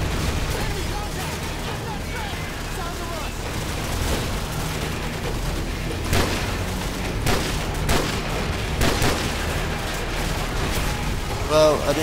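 Machine gun fire and battle noise in Call of Duty 4: Modern Warfare, a dense continuous roar with scattered sharper shots and booms running throughout, with voices talking over it.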